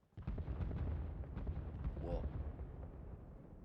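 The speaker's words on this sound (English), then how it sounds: "That looked like a bombing run." Heavy explosions from a bombing run in Arma Reforger, a military game: a sudden loud, deep rumbling blast that rolls on and slowly fades, with a man's exclamation over it.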